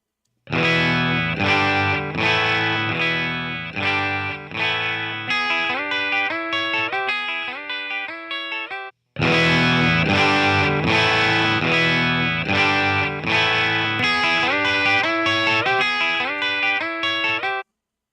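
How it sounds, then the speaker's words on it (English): A distorted electric guitar played through a tube amp plays a repeated riff twice, first in EF86 mode then in 12AX7 mode, with a short gap between passes, loud and saturated, with a chorus-like shimmer. "played it back through the amp on EF86 mode, then on 12AX7 mode"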